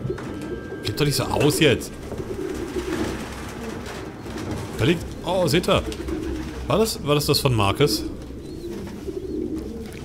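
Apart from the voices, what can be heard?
pigeons cooing in video game Detroit: Become Human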